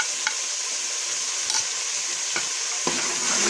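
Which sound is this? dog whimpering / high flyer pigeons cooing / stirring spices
stirring spices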